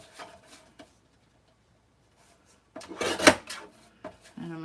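Paper is trimmed to size during a live card-making demo: quiet handling clicks, then one brief rasping swish of the cut mid-clip, with a voice starting near the end.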